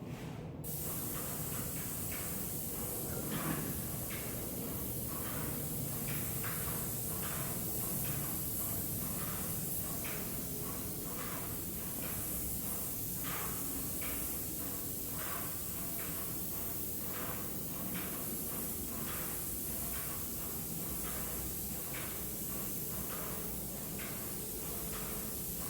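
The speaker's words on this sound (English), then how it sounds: "what I'm spraying now is not a demonstration of technique, it's just spraying to get the paint on" A Graco paint sprayer fitted with a fine finish low pressure 302 tip hisses continuously for a long stretch, a broad steady spray with rhythmic pulsing swells as it sweeps across a surface, close and unbroken.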